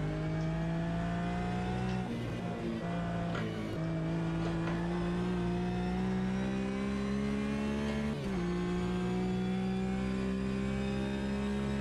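A GT4 race car's engine in Automobilista 2, a steady, loud droning roar held at high revs with brief dips at gear shifts, continuous and close, with no talking.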